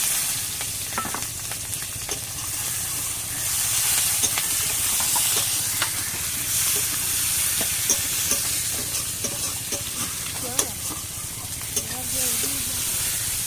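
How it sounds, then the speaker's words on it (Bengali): Chopped onion fries in oil in a pan used for fish, giving a steady, dense sizzle and hiss with occasional sharper crackles and pops throughout. "তেল পরিমাণ মতো তেল দিয়েছি, এবার আমি পেঁয়াজ কুচিটা দিয়ে দেবো"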